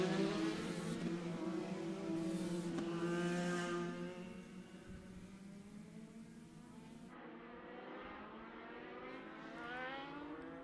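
Legend race cars circle an asphalt oval at Dominion Raceway, their engines droning in a loud, steady pack that eases to a lower, more distant hum in the later part.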